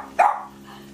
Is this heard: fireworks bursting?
no